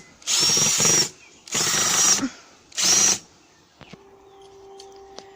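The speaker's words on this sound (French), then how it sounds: "Maintenant, on va visser." Power drill driving screws into a stake for a hut base, three separate loud whirring bursts of about a second each, followed by a few faint knocks and a low hum.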